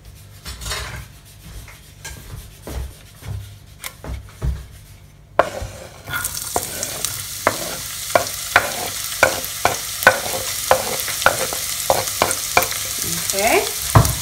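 Chopped onions dropped into a hot pan and fried, a sudden rise into loud sizzling with sharp, regular spatula clacks against the pan as they are stirred, close up and without speech.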